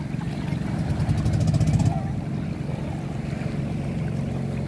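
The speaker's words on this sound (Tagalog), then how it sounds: "Ito parating pong bangka yun. Galing na po sila sa kabilang isla." Small motorboat arriving from a neighbouring island off Dingalan, Aurora, its engine a steady low drone that swells briefly before settling into a continuous rumble mixed with wind and surf.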